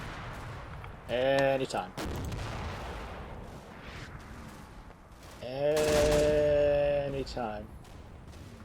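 Small arms and mortar fire in the wargame Combat Mission crack in two loud clusters of shots separated by a quieter stretch, with someone talking briefly between and over the bursts.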